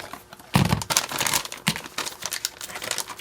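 An MRE grape beverage powder bag is cut open with close, crackly plastic crinkling and a short tearing rustle that carry on for a few seconds.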